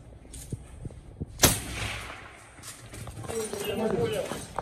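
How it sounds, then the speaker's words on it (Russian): A single sharp gunshot cracks out on an urban battlefield in Bakhmut amid faint scattered knocks, followed by lingering rumble and distant clatter, with quiet voices around it. "Выстрел!"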